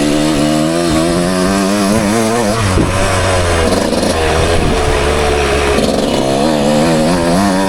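A 1996 Suzuki RM125 two-stroke motocross bike idles and revs up close in the woods, a loud continuous buzzing engine note with rising and falling pitch throughout.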